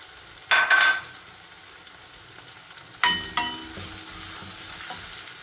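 Green chillies drop into hot oil in a pan for kovakkai gravy, giving a sudden loud sizzle that fades, then a second sharp burst of frying with clinks of a utensil, settling into a soft steady crackle.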